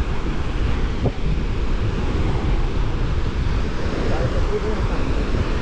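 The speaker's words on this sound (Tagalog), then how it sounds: "Ang lakas ng hangin dito sa sa Nasugbo, Batangas." Strong wind buffets the microphone in a constant low roar, with surf rumbling underneath and a person talking over it, on the beach at Nasugbu, Batangas.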